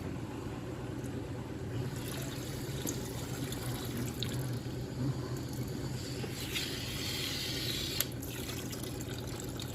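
Old fuel being flushed out of the tank of an Arctic Cat Z440 snowmobile that sat for over 20 years, a steady trickling, splashing pour of liquid running continuously at moderate level with no voices.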